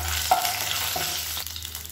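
Fennel seeds and broken dried red chillies sizzle in hot oil in a pan, a steady close frying hiss with a faint stir near the start, no voices.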